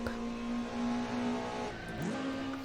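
Engine of a 1990s BMW BTCC touring car running flat out at Brands Hatch in Assetto Corsa, a steady loud drone with a brief pitch dip and sweep as it shifts gear.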